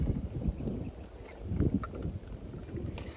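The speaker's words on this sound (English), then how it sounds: "As the rain continues to fall, to make sure I've got everything packed away, because this wind's picked up as well." Wind buffets the microphone during a rainy storm beside the Clyde River, coming in low rumbling gusts with faint patter and small knocks, fairly close and without talk.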